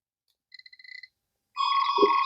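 A Star Trek: The Next Generation toy tricorder makes a quick run of small ratcheting clicks, then goes quiet briefly before a bright electronic tone sounds. No voices.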